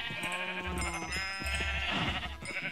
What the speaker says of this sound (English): Get some sheep.